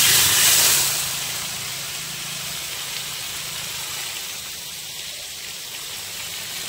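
Potatoes, papaya and pointed gourd fry in a pan with bay leaf, panch phoron and cumin, a steady close sizzle and hiss that starts loudest and then settles into an even crackle, with no talking.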